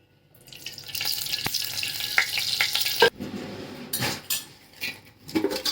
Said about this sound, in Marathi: तेल तापले आता त्याच्यामध्ये जिरे टाकते